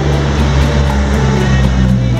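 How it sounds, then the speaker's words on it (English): Dense, loud traffic noise from many cars on a busy Havana street, a steady broadband rumble with low engine drone filling the whole stretch and no clear individual pass-by. "very loud, a lot of cars."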